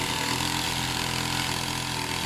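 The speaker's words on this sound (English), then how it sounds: "It's idling fine, it sounds really loud, but it is a two-stroke." A two-stroke pit bike engine idling loudly up close, a steady buzzing rattle that holds an even pitch throughout.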